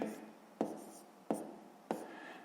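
Pen on paper while a math solution for a sixth-grade exercise is written out by hand, with soft continuous scratching and three sharper strokes or taps at roughly regular intervals, close and quiet, without talk.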